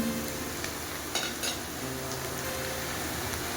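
Ground garlic paste goes into reddish-brown fried onions in a pan for a Bengali chicken curry, a continuous low sizzle with a few sharp scrapes and stirring knocks, no talk.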